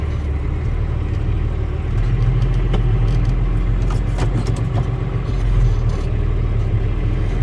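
A tractor drives forward while unrolling a hay bale for cows and calves, giving a steady, loud engine rumble with slight surges and faint rattles throughout, with no voices.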